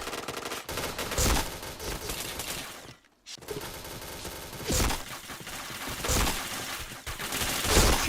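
Rapid automatic gunfire in a shooting video game, with dense bursts of shots going on almost continuously, loud and close, broken by one brief silence near the middle.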